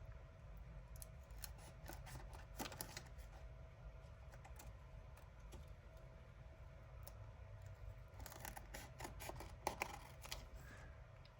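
Scissors snipping around the edge of a playing card for a junk-journal craft, a quiet run of short crisp cuts in two clusters against a low steady background hum.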